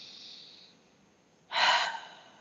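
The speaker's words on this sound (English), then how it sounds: "Take a breath." A person draws one deep, breathy inhalation up close, preceded by a softer airy exhale, in an otherwise quiet setting.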